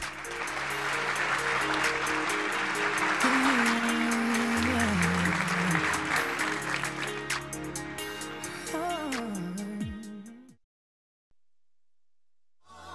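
A studio audience on a Filipino TV show applauds in a dense, loud burst of clapping over music that trails off and cuts to silence near the end.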